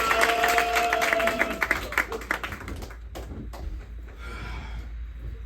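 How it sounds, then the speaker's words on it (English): Audience applause and cheering at a live comedy show in Fort Lauderdale, loud and dense at first, then thinning into scattered claps and fading into a quieter room murmur. "Let's start clapping right now."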